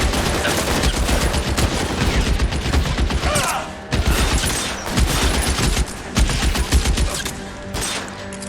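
Rapid gunfire crackles through a shootout in the crime video game L.A. Noire, dense overlapping shots and bursts filling the scene at close range, with brief lulls between volleys.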